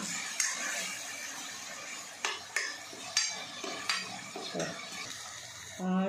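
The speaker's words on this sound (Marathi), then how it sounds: "टोमॅटो पण पूर्ण शिजूपर्यंत त्याला परतत राहायचं, शिजून घ्यायचं पूर्ण" Tomato paste is sautéed in a pan with a soft sizzle as a spatula stirs and scrapes, producing a series of clinks and scrapes at an irregular pace.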